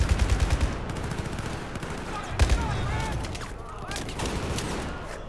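Battlefield 4 gunfire aboard the USS Valkyrie: rapid automatic bursts of shots, loud and close, with dense rattling fire through the opening seconds and continued shooting beneath a busy, noisy combat mix.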